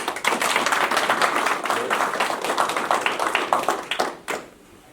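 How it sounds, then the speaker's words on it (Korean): An audience at a press conference announcing a run for mayor of Ansan claps in a dense, lively burst of applause that holds for about four seconds, then cuts off sharply, leaving a quiet room tone. "여러분의 가치를 믿으면서 박수 한번 하겠습니다"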